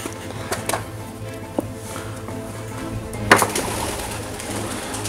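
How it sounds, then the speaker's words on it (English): Pigeons inside an abandoned, fire-damaged Scottish hospital: soft cooing and a few scattered flaps and thumps over a steady low hum, with one sharper burst of wing noise near the end. "Fucking pigeons, man, I swear to God."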